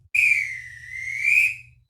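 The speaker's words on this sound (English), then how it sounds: "When a lifeguard blows on the whistle, listen up." A lifeguard's whistle gives one clear, shrill blast lasting over a second. It swells slightly toward the end and then cuts off, standing alone against near silence.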